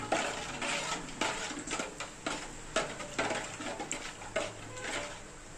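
Spices being sautéed in a cooking pot for a home-cooked birthday meal: a steady sizzling hiss with repeated metallic scraping and clinks of a spoon stirring against the pot, fairly close and moderately loud.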